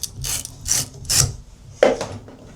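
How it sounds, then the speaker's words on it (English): Hand sanding the edge of a tub surround panel: a few short, rasping strokes in a loose rhythm, close and moderately loud, with no talking. "Sand this up a little bit."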